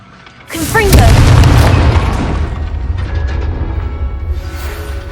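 Confringo spell explosion in the video game Hogwarts Legacy, a loud sudden boom with a rumbling tail that fades over several seconds, preceded by a brief shouted voice.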